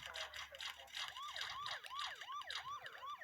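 Police siren wailing in repeated rising-and-falling sweeps, clear and fairly close, with traffic noise underneath and brief faint voices at the start.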